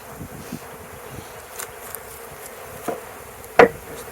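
Honeybees fanning at the entrance of a hive box make a faint, steady buzz, broken by a few light knocks and one sharp louder tap near the end.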